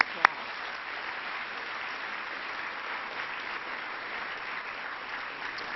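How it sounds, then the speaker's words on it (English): An audience at an education event with sophomores bursts into sustained applause, a dense, even roar of clapping that holds steady throughout after one sharp initial clap. "Let's give them all a big round of applause."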